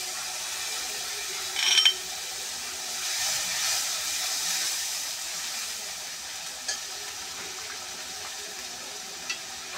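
Tomato and green chili paste sizzling in a hot pan for a Bengali katla fish kalia, a steady soft hiss and crackle with a brief louder spatter as it is stirred, heard close with no talk.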